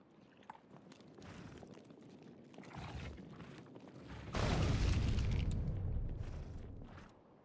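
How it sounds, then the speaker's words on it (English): Alien bugs burst apart in Factorio: Space Exploration, a crunchy cluster of popping and crackling explosions swelling into a louder rumbling burst midway, then fading, with no talking. "Pretty satisfying audio on these bugs exploding"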